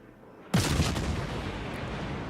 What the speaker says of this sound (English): They're blind firing into the smoke at the moment.